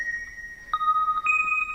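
A synthesizer melody on a patch called drift: clean sustained tones stepping between a few pitches, thin and fairly quiet, without voices.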